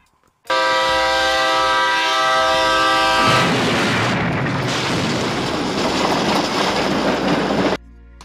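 A train from a 1978 Japanese Spider-Man episode sounds a long, loud horn blast, then gives way to a harsh, roaring rumble of rail noise that cuts off abruptly.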